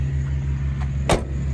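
The door of a 1979 Chevrolet C10 pickup truck closes once with a short, solid thud over the steady idle hum of the engine.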